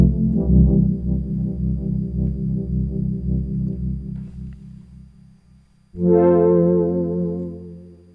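A Yamaha Reface DX FM synthesizer playing a warm, sustained patch with chorus added, a thick held chord that slowly fades before a brighter new chord strikes near the end, close and alone.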